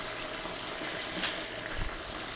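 Steady loud sizzling of three green chilies frying in hot oil, a continuous hiss with a small thump near the end.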